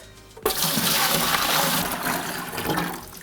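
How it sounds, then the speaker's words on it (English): Cajun turkey brine is poured into a Cambro 22 quart container, a sudden loud gush of liquid that starts abruptly and splashes steadily for about three seconds. "So the first thing we're gonna do is pour that into our Cambro."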